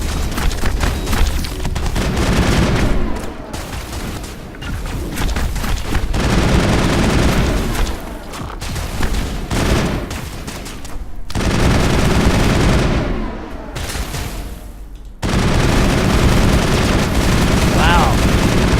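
Rifle gunfire in the sci-fi shooter game Mass Effect, dense bursts of shots and booms running loud and nearly continuous, with brief lulls between volleys and some voices underneath.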